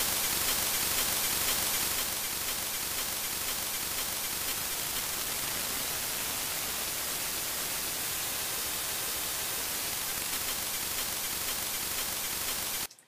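Resampled white noise processed in Ableton, a dense, steady broadband hiss that fills the whole span, slightly brighter for the first two seconds, then holds evenly before cutting off abruptly at the end, with no voices.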